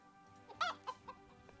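Chicken clucks from the sludge towers in the video game Dalaran Tower Defense, a few short bursts over a quiet game soundscape with a steady background hum.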